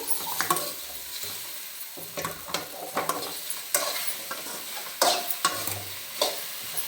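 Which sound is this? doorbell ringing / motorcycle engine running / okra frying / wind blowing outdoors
okra frying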